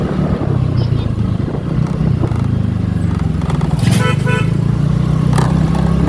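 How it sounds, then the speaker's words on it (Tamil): On a busy road during a motorcycle ride, a vehicle horn honks in short blasts over constant loud engine and wind roar from the bike. "இந்த வண்டி பெரிய வண்டிக்காரங்கன்னா எதுக்கு தான் ஹாரன் அடிப்பாங்கன்னு தெரியல"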